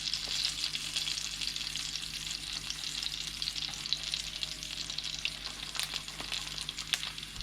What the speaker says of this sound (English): just keep rotate the peppers all around so it get the kind of blister like this right here